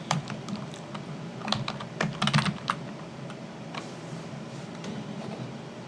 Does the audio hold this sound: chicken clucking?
no